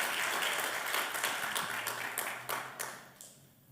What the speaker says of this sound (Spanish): dale un aplauso bien fuerte a Dios